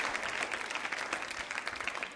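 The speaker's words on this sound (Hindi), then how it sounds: "जोरदार तालियां बजाइए आप" At a college quiz show on Rajasthani culture, the audience gives a brief round of moderately faint, steady applause after a contestant is called up for a prize.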